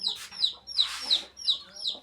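Hen clucking in short repeated bursts, fairly close, with a few sharp higher calls; no talking.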